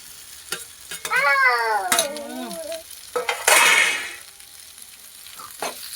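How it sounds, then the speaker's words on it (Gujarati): Capsicum chillies go into hot gravy for a besan sabji and are stirred. A short, loud burst of sizzling hiss and stirring follows an earlier rising-and-falling tonal whine. "હવે આપણે ગ્રેવીમાં મરચાં આપણે નાખી દઈએ."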